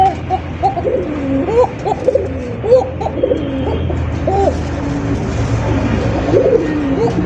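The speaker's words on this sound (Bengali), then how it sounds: "দেখেন কত সুন্দর লাল টুকটুকে এক জোড়া কোকা কবুতর" A red pair of Coca pigeons cooing, repeated rolling coos in an uneven rhythm over a steady background hum, close and clear, with no speech over them.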